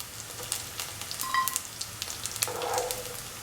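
Anchovies frying in a pan give off a soft, steady crackle and sizzle with scattered pops, fairly quiet and close, and no voices over them.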